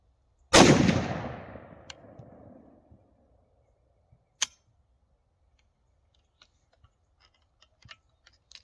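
A BCA 350 Legend rifle fires a single loud shot at a shooting range, with a long ringing decay. A sharp report follows a few seconds later, then faint scattered clicks and ticks.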